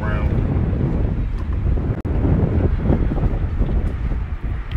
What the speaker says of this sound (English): And it's windy out here too.